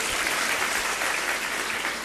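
An audience at a Jain religious discourse in Barwani, Madhya Pradesh claps together in steady, dense applause that fills the whole stretch at a fairly loud level, with no talk over it.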